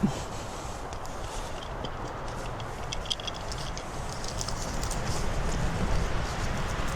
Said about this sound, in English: It's actually pretty windy right now.